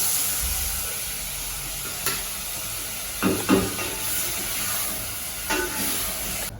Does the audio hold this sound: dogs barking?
no